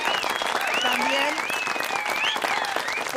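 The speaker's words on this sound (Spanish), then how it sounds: "En este momento se está haciendo un aplauso general para todo el personal de la salud" Sustained general applause for health workers from a crowd, steady and dense throughout, with a presenter's voice talking over the clapping.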